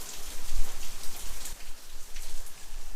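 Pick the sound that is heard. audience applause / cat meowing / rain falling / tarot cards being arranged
rain falling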